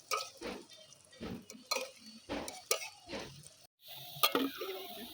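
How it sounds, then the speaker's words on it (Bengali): Pieces of dhoka (lentil cakes) frying in hot oil in a pan, soft sizzling broken by repeated stirring scrapes and light clinks of utensil against pan, fairly close. "একটু লাল লাল করে ভেজে নিতে হবে।"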